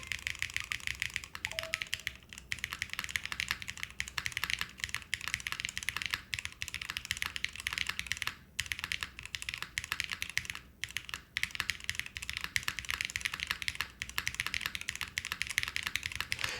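Rapid typing on a cheese-themed Gouda keyboard with a slightly soft feel, close and steady key clacks in irregular bursts with brief pauses throughout.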